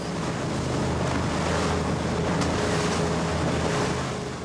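A fishing boat rides rough, wind-whipped waves on Lake St. Clair, with constant roaring wind buffeting the microphone and splashing water, loud and unbroken.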